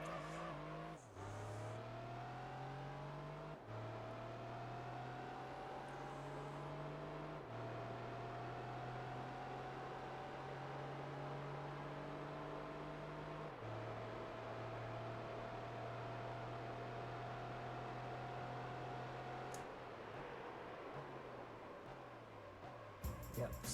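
A Dodge Viper in Gran Turismo 3 accelerates through repeated gear changes, its engine note climbing steadily then dropping at each shift, loud and continuous for over twenty seconds with a brief squeal near the end.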